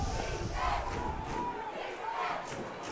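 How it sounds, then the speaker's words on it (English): Crowd noise at Frank R. Campbell Stadium during an Averett versus Randolph-Macon college football game late in the fourth quarter, a steady roar of many voices that swells and eases without letup. "The crowd getting involved here at Frank R."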